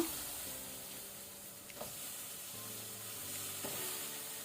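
Cleaned cauliflower frying in a pan over a low flame for a pepper fry: a soft, steady sizzle and hiss with a few faint stirring clinks, no talking.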